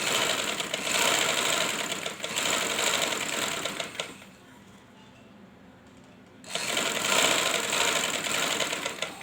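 A sewing machine stitches the second seam of a garment in fast, steady bursts, running loudly, pausing for about two seconds, then resuming just as strongly.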